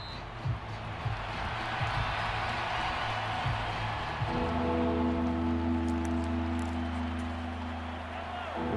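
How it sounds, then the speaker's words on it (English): Stadium crowd at a Kansas City Chiefs football game, a broad steady roar of many voices building in volume, with a commentator talking over it. "this crowd turning up the decibel level"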